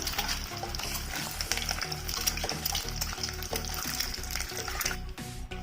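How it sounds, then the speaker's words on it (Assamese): An egg fries over low heat in a pan while being stirred, with a continuous close sizzle broken by regular scraping strokes of the utensil, loud and without talk. "আৰু লাহে লাহে এনেদৰে লৰাই থাকিব।"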